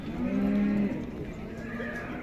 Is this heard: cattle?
yes